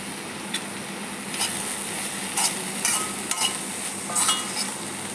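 Grated coconut stirred into a beans and carrot stir-fry in a pan, a soft steady sizzle broken by several scraping spoon strokes and light clinks, close and quiet.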